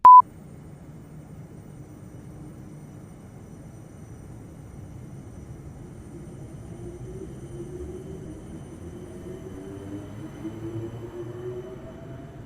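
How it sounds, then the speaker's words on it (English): Class 455 electric train in Train Simulator 2021, traction motors whining with a slowly rising pitch as the train pulls away, soft and steady after a short beep at the start. "we take a listen to those fantastic Vosler motors"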